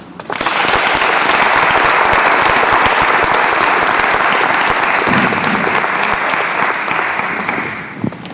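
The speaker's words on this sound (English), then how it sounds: "So please give a very big applause to DevTouch" An audience at a startup pitch event applauds DevTouch with sustained, loud, dense clapping that begins almost at once and holds steady for several seconds before thinning slightly at the end.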